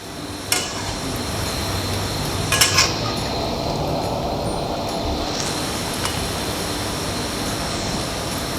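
A Thai omelet frying in hot oil until crispy, giving a steady, loud sizzle throughout, with a few brief metallic clinks of a utensil against the pan near the start and middle.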